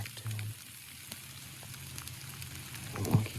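Steady rain patters on the ground in open fields during a thunderstorm, a soft continuous hiss with a brief louder burst of drops near the end, and no voices.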